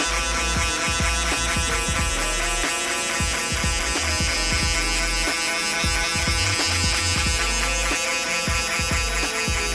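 Electric hair clippers tapping down a fade line in a barbershop, a continuous loud motor whine broken by rapid repeated tapping strokes, close up and without talk.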